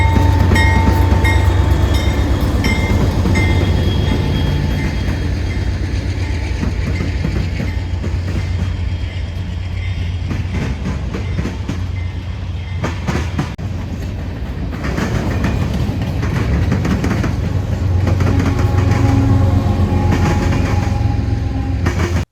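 A heavy freight train with a mid-train locomotive rumbles steadily past up close in the Chicago area, its wagons producing a continuous clickety-clack for the whole stretch, with no voices.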